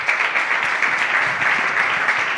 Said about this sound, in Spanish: Muchas un aplauso para el alcalde